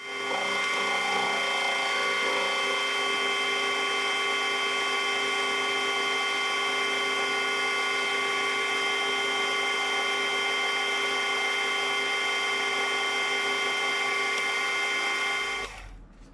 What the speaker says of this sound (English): I'm going to try and blend this, just chamfer this off,